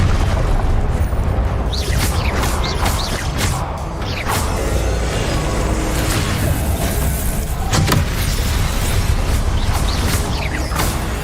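The Confringo blasting spell goes off in Hogwarts Legacy with loud, close booming bursts and whooshes. Several sharp impacts land over a busy rumbling background, and no one speaks.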